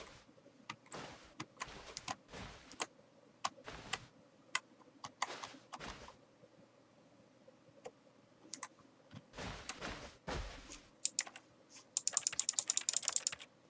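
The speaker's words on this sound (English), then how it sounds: "Why is that making keyboard sounds when I click?" Keyboard typing and mouse clicking while playing Minecraft, crisp close clicks coming in irregular bursts and clusters, with quiet pauses between them and a denser rapid run near the end.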